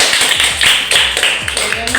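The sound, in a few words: class clapping hands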